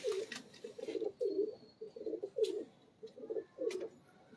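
A pigeon kept by breeders coos softly and repeatedly, a steady run of low, rolling calls at close range with a faint background hum and no talking.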